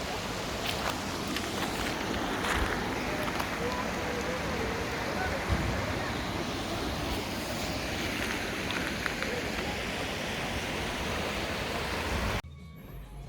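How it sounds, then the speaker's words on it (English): Steady broadband rush of flowing water at a forest water crossing near Kakochang Falls in Assam, continuous and fairly close, ending abruptly near the close. "The sound of water is quite pleasing."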